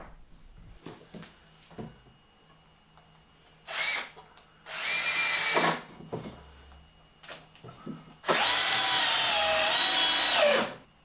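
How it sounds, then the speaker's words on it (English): A power drill bores pilot holes into a wooden workbench to mount an old vise, with several bursts of whirring, the last long and steady, separated by quieter handling noises nearby. "I get the vise offered up and drill some pilot holes"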